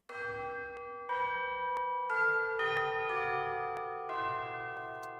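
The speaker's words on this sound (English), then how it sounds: "we've also got some tubular bells having a bit of fun as well" Tubular bells in an orchestral dramatic tension cue ring out in about five bright strikes roughly a second apart, each tone lingering and blending into a wash of heavy reverb.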